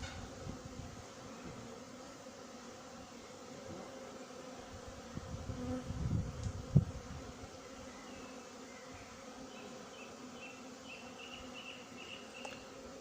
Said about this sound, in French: Là, il y a quelques abeilles qui se posent sur les rayons